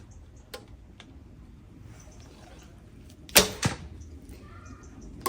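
Two 500-grain arrows shot from an AF Archery SiCai bow, a sharp string release and thwack, then a second quick snap close behind, close and loud against a quiet outdoor background with faint ticks.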